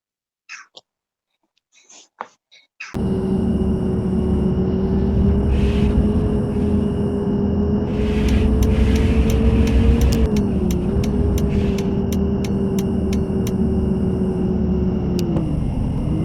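A bus engine in a Bus Simulator video game drones steadily at high volume, its pitch holding then dipping as the vehicle slows, with small clicks and blips on top, after a few seconds of near silence.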